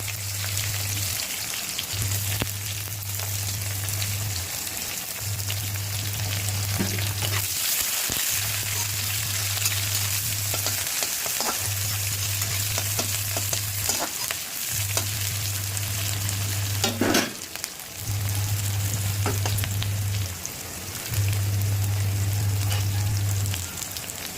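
Chopped garlic and onion fry in oil, a steady dense sizzle that runs throughout, with occasional scrapes and stirs. A low rhythmic hum pulses on and off in the background.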